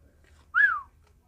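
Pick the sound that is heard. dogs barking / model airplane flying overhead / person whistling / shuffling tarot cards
person whistling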